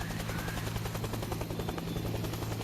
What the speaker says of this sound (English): get on the chopper, get on the chopper